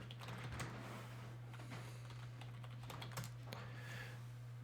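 Close, soft clicking of a computer keyboard as a command and password are typed, a quick irregular patter of keystrokes over a steady low electrical hum.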